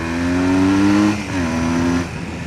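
A Honda Rebel 250 motorcycle fitted with a pod filter runs in second gear, its engine droning loud and close with a steady harmonic tone that dips briefly midway and then holds on.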